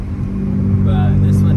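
A loud BMW 335i N54 engine with upgraded 19T turbos, about 550 wheel horsepower at 18 PSI, revs and pulls hard, a steady low rumble rising in pitch as it accelerates, with a faint whine above.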